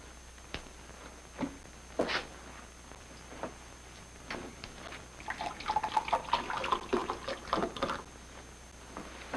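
Water is poured into a clean glass, opening with scattered drips and splashes before a denser burbling pour in the middle, close and fairly quiet.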